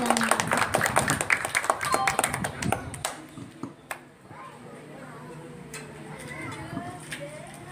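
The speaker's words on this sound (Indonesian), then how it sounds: "Tepuk tangan semuanya." Audience clapping at a religious gathering, brisk hand claps for a few seconds that fade out, followed by quieter room sound with faint voices.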